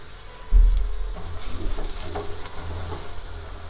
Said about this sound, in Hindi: अब पराठे को गोल्डन ब्राउन होने तक सेकेंगी दोनों तरफ से।